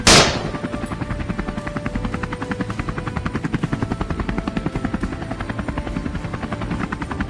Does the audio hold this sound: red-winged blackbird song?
no